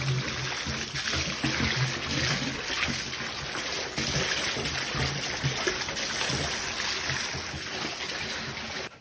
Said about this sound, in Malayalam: തുടർന്ന് വെള്ളം ചാടിക്കോട്ടെ കേട്ടാ.